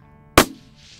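A single loud, sharp rifle shot fired while sniping groundhogs at long range in a field, with a sudden blast and a short decaying tail, close to the microphone.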